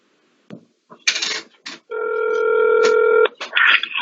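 Telephone dialing tones ring out loud and close while a call is placed, a steady multi-tone beep held for over a second after a few short clicks and bursts.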